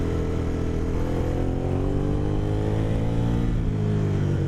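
Aprilia Caponord 1200 motorcycle, its engine droning steadily and then rising in pitch as it revs up for a wheelie, heard close and loud over road and wind noise.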